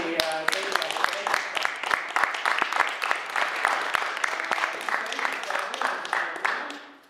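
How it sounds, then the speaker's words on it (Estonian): Audience applause closing a panel discussion at a conference on alcohol and community in Paide, Estonia: a few sharp individual claps rise into steady clapping over a voice that ends the session, then fade out. "ma teen aplausi teile."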